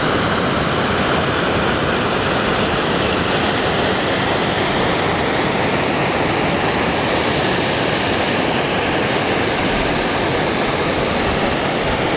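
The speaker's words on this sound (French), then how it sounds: "Avec la super cascade là." A loud, constant roar of rushing water from a waterfall at Lac d'Oô in the Pyrenees, dense and unbroken throughout, with no voices or other distinct sounds.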